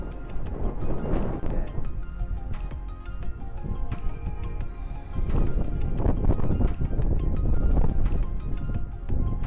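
Strong wind sweeps across a golf course, gusting and buffeting the microphone in a loud, continuous rush that swells in the second half.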